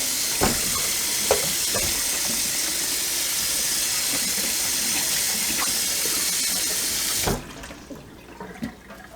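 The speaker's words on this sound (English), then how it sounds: "I'm gonna give it a good washing first." A squash with soft spots is washed under a running kitchen tap, giving a loud, steady rush of water with faint handling knocks. The water cuts off sharply near the end, leaving quiet room sound and a few small bumps.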